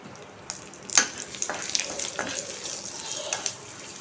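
Dried red chillies, curry leaves and asafoetida sizzle in hot oil in a pan for idli podi, a soft crackling hiss with a few sharp pops and splutters, heard close with no talking.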